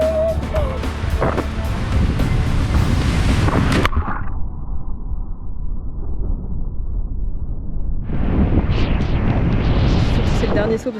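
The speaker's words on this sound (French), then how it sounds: "là il y a trop de vagues" Ocean waves crash and roar in a loud, turbulent burst, fade to a low rumble, then surge again, heard close up from the water during cliff jumping in Indonesia.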